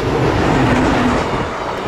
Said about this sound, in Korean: 타인의 시선 따윈 관심 없다는 듯 기차는 간이역을 스쳐 지나갑니다